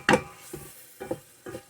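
Crushed garlic being stirred into shrimp scampi inside an Instant Pot, a few soft scraping strokes: one sharper first stroke, then three quieter ones spaced about half a second apart, close and alone.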